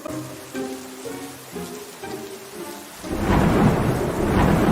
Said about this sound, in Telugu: అందుకే లైట్లు ఆపేసి వర్షం కురిపించడం మొదలుపెట్టాను